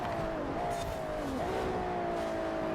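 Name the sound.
drift car engine revving in Forza Horizon video game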